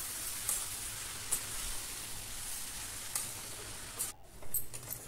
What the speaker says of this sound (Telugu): మునగాకు పెసరపప్పు వేసిన తర్వాత ఒక 3-4 నిమిషాలు చక్కగా వేపండి